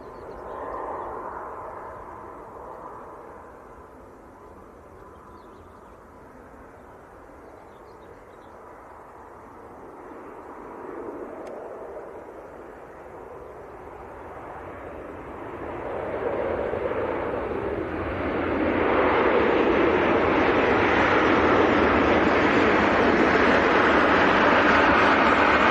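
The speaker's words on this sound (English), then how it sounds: "Another Maltese registered Ryanair that's just landed, making all the noise." Maltese-registered Ryanair airliner landing at Manchester Airport, a broad jet roar that builds steadily and grows loud toward the end, heard from the distance of a planespotting spot with no talk over it.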